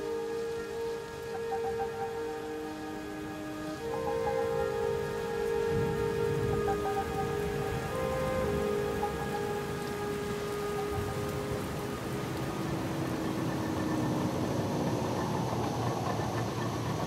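Heavy rain pours during a violent early-morning thunderstorm, a steady dense hiss that grows louder partway through, with a faint low engine-like hum beneath and no voices.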